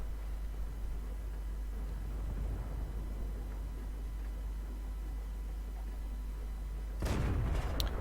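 Tank cannon firing in World of Tanks from an E50M on the Abbey map: a single sudden boom with a sharp crack, heard after a long stretch of low rumbling engine drone.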